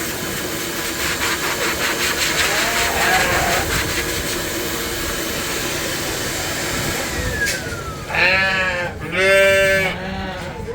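January lambs at a Kingston 4H sheep show bleat near the end in two loud, wavering calls over a busy barn backdrop with fainter bleats earlier.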